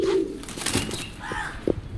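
Pigeons coo softly nearby, a pair of Rampuri and Rajasthani birds in an indoor loft, with low throaty coos, light rustling and a brief flutter, no talking.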